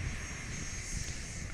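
A Gulfstream G280 business jet taxis onto the runway at Palomar (Carlsbad) airport, a steady broad engine roar with wind noise, continuous and moderately distant, no talk.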